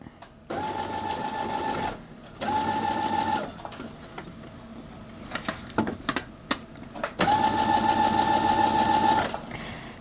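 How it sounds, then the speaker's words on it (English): Sewing machine top stitching a pillowcase with white thread, running in three steady whirring bursts of a few seconds each, close and loud, separated by quiet pauses with light handling clicks. "And I'm just going to top stitch. I'm gonna do it from the wrong side."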